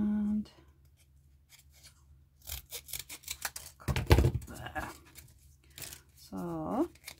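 Scissors cutting across paper for a craft piece, a few short crisp snips and rustles close by, mixed in with some quiet talking.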